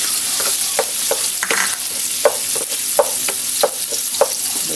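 Garlic and onion sauté in a pan beside pork, a bright, close sizzle broken by repeated rhythmic scrapes and clacks of a spatula against the pan, with no talking.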